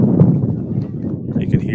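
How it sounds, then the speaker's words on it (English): Gusty wind buffets the microphone at an outdoor high school baseball field during a state quarterfinal game, a steady low rumble under a commentator's talk throughout. "You can hear just how windy it is here."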